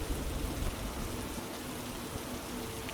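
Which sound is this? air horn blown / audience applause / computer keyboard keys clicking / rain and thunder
rain and thunder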